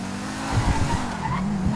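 A stolen car in GTA 5 drives and skids, its engine rumbling under a sustained tire squeal, loud and close with no talking.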